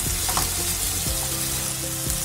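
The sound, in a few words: tomatoes sautéing in a pan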